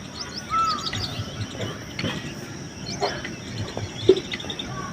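Sparrows and pigeons feeding on scattered grain outdoors in the morning, giving a busy stream of small chirps and calls over steady background noise, with one sharper call standing out near the end.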